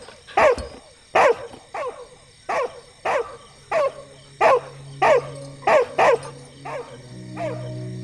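A dog barks about a dozen sharp, loud barks at an even pace, close by, with a faint low whine between the later barks.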